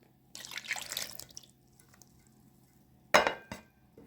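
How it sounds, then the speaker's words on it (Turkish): Lukewarm water is poured from a glass into a bowl of flour and softened dry yeast for sourdough bread, giving a faint splashing pour that lasts about a second, followed later by a sharp clink of glass against the bowl. "bir bardak da ılık su ilave ediyorum"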